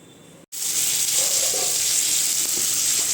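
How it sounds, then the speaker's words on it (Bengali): Mixed vegetables fry in a hot kadai, a loud, close, steady sizzle that bursts in abruptly after a brief quiet moment and carries on evenly. "সব সবজিগুলো আগে একটু ভালো করে ভেজে নেবো"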